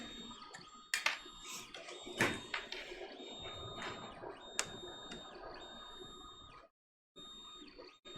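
A Sovol SV01 3D printer runs nearby with whining stepper-motor tones and scattered clicks and taps, cutting out briefly before resuming.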